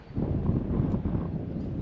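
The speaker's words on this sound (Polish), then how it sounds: "Teraz zobaczcie, zerwał się nawet wiatr." Steady, rushing mountain wind gusts buffet the microphone with a low, broad roar that holds fairly constant throughout, with no voices.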